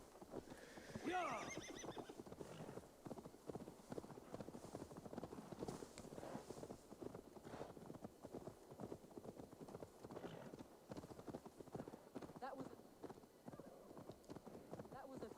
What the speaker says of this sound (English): Where's my horse? What happened to my horse?